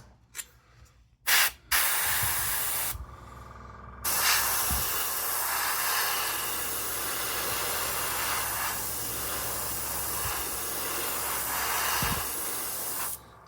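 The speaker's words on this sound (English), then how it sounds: "Still spraying nicely." A spray gun hisses MRP Aqua model paint in a long, steady blast of fine mist onto a test spoon after a few short test bursts, close up and continuous with no talking.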